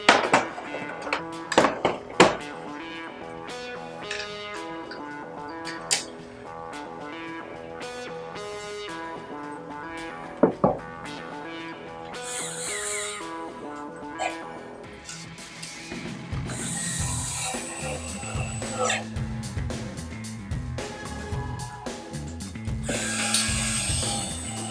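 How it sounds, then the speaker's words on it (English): Screws being fastened into mounting corners of an Ecotech Radion XR15 aquarium light, with clicking and ratcheting taps, scattered sharp knocks and a busier stretch of tool clatter toward the end. "Now I'll attach these screws. Four screws on every corner."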